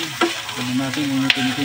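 Pork sisig sizzles loudly in a hot pan as it is stirred, a close, steady frying hiss with brief scraping stirs.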